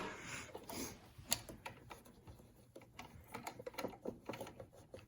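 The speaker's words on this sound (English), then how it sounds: "now you're going to sew across here" A sewing machine stitches across the pleats of a fabric surgical mask, a faint, quick mechanical chatter of the needle running steadily for several seconds with light clicks, and no one speaking.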